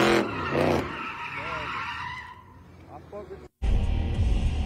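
Car skidding and sliding with tires squealing during a crash, a loud drawn-out screech that fades out, cuts to silence, then returns as a burst of harsh noise.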